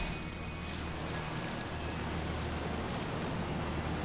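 Rain in the Pokémon Purple video game, a steady, even hiss of falling water that holds unchanged throughout, fairly loud and alone.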